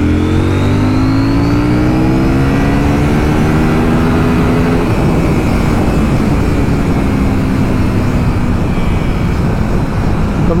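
A CFMOTO 800 NK Advanced motorcycle engine under full throttle, revving loud and close as it climbs through the revs, with a gear change partway through and a steady roaring drone after it.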